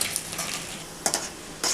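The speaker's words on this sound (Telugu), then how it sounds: "వెల్లుల్లిపాయలు అల్లం ముక్కలు వేసి వేయించుకోవాలి" Garlic and ginger pieces sizzle in hot oil for chicken fried rice, a steady close crackle with brief louder hissing bursts and a faint clink of a stirring spoon.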